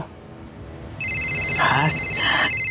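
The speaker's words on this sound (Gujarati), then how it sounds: "મેડમ ફોન ઉપાડો." An electronic telephone ring starts about a second in and holds as a steady, bright, continuous tone, with faint voice-like sounds underneath, in a Gujarati drama scene.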